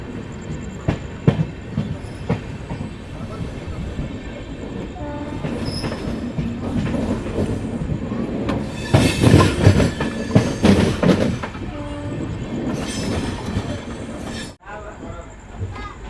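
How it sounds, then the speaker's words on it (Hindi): An Amrit Bharat Express train rolls along the rails between Patna and New Delhi, near and loud, with a steady rumble, wheel clatter and bursts of louder rattling as it runs. "अब हम लोग की अमृत भारत एक्सप्रेस ट्रेन जो है वो पहुंच चुकी है आरा जंक्शन पे"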